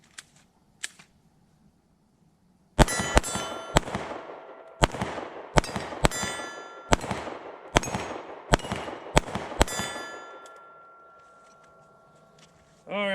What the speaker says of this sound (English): let's try this Hellcat one more time. I'm gonna run both mags through it